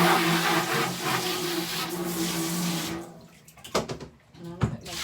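Water running steadily, as from a tap, with a broad rushing hiss that cuts off partway through, leaving a few clunks and faint handling sounds.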